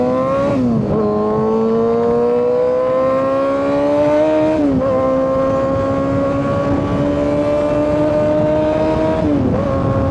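A Kawasaki ZX6R motorcycle accelerates hard, its engine note climbing steadily through several gears with brief dips at each shift, loud and close throughout.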